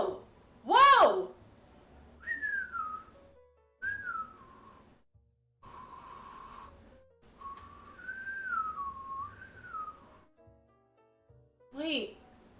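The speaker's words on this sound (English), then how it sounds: "If you have a shell in your cheek, you can make a weird whistling noise." A person whistles with a stuffed-pasta shell tucked in the cheek, making several separate wavering, sliding whistle tones with pauses between, interspersed with sharp bursts and exclamations from voices nearby.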